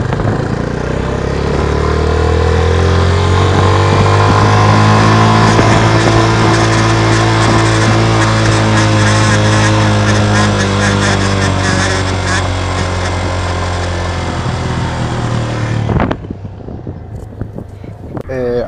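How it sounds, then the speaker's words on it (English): A Yamaha FZ 25 motorcycle riding with a fault making odd noises near the rear wheel, steady loud engine drone with wind rush for most of the ride, then a sudden drop to quieter rattling near the end. "weird sounds in the bike"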